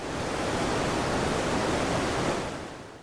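A forest waterfall rushes as a dense, steady roar of falling water, loud and continuous before fading slightly at the end.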